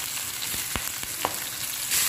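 Cauliflower leaves hit hot oil in a pan and sizzle steadily up close, broken by a few clicks and taps of a spoon stirring them, with no speech.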